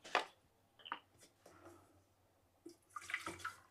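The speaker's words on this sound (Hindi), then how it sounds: "इसके अंदर थोड़ा सा पानी डालते हैं" Water poured into a just-repaired electric kettle, splashing in short bursts with pauses between pours, close and moderately loud with no talking.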